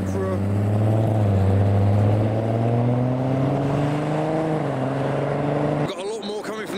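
A purple Mark 4 Toyota Supra rolls up at a car show, its engine a loud, steady drone that fades and cuts off toward the end, with crowd noise around it.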